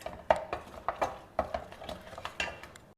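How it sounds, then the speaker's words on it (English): A spoon scrapes and clinks rhythmically in a pan over a low flame while mashed potato, grated coconut and jaggery powder are mixed together, with repeated sharp taps against the metal and soft stirring. "On a low flame, mix all the ingredients, that is the mashed potato, coconut grating and the jaggery powder together"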